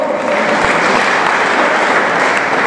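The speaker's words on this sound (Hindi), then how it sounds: "तालियां बजाते रहे बच्चों।" Steady, loud applause from children at a college economics department prize-giving ceremony, a continuous wash of clapping with no pauses.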